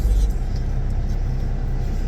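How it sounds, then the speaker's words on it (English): A car engine idles steadily on a chilly morning while warming up, giving a low, continuous rumble close by with no voices. "I'm letting my car warm up"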